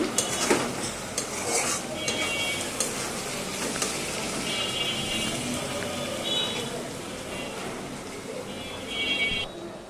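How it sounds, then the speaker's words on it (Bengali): Chopped onion fries with spices in oil in a pan for an egg and potato curry, giving a continuous sizzle under frequent scraping and clattering of a utensil against the metal. "তেলে ভেজে তারপর মশলা ভালোভাবে পেঁয়াজটা ভেজে নিচ্ছি।"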